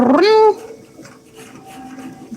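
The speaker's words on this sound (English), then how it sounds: "Oh, kitty!" A single loud, drawn-out cat meow with a rising then falling pitch in the first half second, followed by quieter room sound and faint movement.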